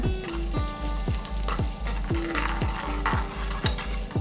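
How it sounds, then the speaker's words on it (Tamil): Black pepper and cumin fry in hot oil for Iyer-style venpongal, a close steady sizzle under repeated stirring strokes that scrape and clink against the pan about twice a second. "எண்ணெய் காஞ்சிடுச்சுங்க. மிளகு ஜீரகம் போட்டுருவோம். கொஞ்சம் பொரியிட்டுங்க."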